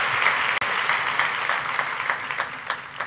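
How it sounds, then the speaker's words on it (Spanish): Church congregation clapping loudly during a Sunday communion service, dense sustained applause with a few sharper individual claps, no voices over it. "Denle un aplauso bien fuerte al Rey"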